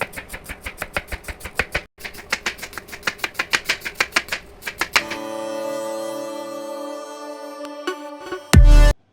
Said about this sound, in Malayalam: ഉള്ളിയും പച്ചമുളകും കട്ട് ചെയ്തെടുക്കാം